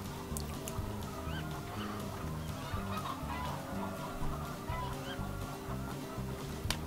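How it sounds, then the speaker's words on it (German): Broiler chickens clucking in a farming simulation game's poultry house, a steady, busy layer of fowl sounds with some honk-like calls, continuous and moderately close over a low mechanical hum. "Das sieht mir nach den Masthühnern aus, ne?"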